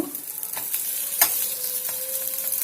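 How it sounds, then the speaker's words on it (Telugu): Rice cutlets fry in a pan with a soft, continuous sizzle, punctuated by a few quiet scraping and turning sounds close by, with no voices. "ఇప్పుడు ఈ పక్కన కూడా మనం ఇదే విధంగా ఈ రంగు వచ్చేట్టుగా మనం దీన్ని ఫ్రై చేద్దాం."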